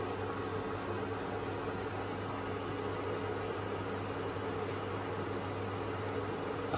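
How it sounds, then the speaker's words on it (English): A pint of water steaming in a frying pan on an induction hob gives a steady, close hiss with a low hum underneath, unbroken for the whole stretch. "It's steaming well."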